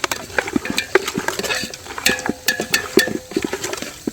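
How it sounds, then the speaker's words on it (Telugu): A spoon repeatedly scrapes and clinks against a pot while chicken dum biryani mixture is stirred, the uneven rhythmic knocks and metallic taps sounding close and moderately loud with a soft sizzling texture underneath. "మిక్స్ చేసుకుందాం బాగా"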